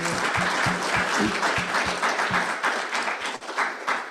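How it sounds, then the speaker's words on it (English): Session attendees applauding presenter Molly at the close of a talk on water-protection tools, a full, steady round of clapping with some faint murmuring underneath that thins slightly toward the end. "Please help me give a round of applause to Molly."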